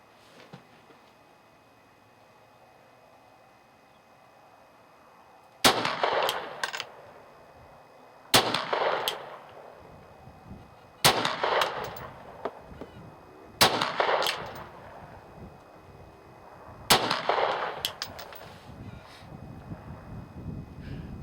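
A Ruger SR9 pistol fires five sharp, loud shots at a 100-metre target outdoors, spaced a few seconds apart, with quiet wind and echoing tails between them.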